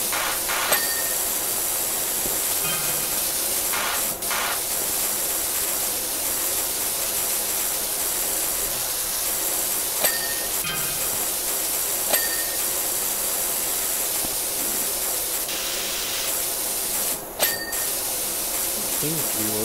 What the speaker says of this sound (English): Let's just spray it like this.